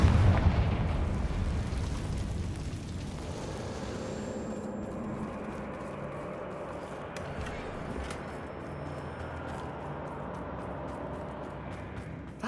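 A heavy blast from the Confringo spell in the video game Hogwarts Legacy, a loud boom at the start that decays into a long rumbling tail with lingering debris and ambient noise.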